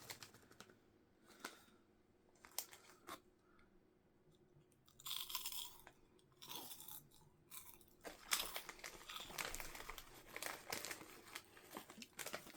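Cheesy corn snack puffs crunched and chewed close up, a quiet stretch of crinkling packet at first, then bursts of loud, dry crunching bites that grow denser toward the end, with no talk.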